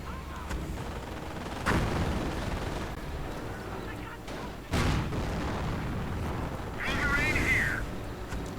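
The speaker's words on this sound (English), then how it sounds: "mortar firing away madly" Mortar firing in a World War II real-time strategy battle, a few heavy thumping launches spaced a few seconds apart over a steady din of distant battlefield noise, moderately loud.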